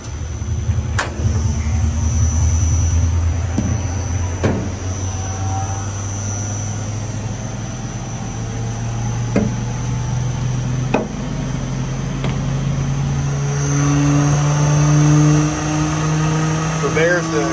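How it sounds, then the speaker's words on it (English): A rotary screw air compressor, driven directly by a 20 hp three-phase motor, runs with a steady low hum and a rising tone, broken by occasional sharp clicks from the machinery. "So this is the air pump, you know, the rotary screw, and the 20 horsepower three-phase motor back"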